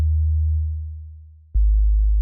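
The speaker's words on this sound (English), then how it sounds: "And now you have a sine wave." A pure, low synthesized sine tone hums steadily, fades down, then returns abruptly at full strength.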